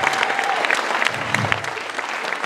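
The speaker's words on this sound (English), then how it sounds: "please give yourselves a round of applause" A concert audience at the Customs House claps steadily, a dense, loud wash of applause filling the whole short stretch without any pause.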